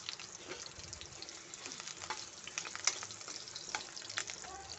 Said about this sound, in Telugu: అందుకే కొంచెం ఆయిల్లో వేంపుకోవాలి